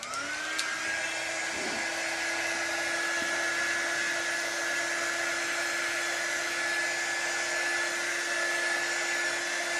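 Hair dryer blowing to dry a chalk craft project, spinning up quickly and then holding a steady, even whine and airy rush for the rest of the stretch, close and alone.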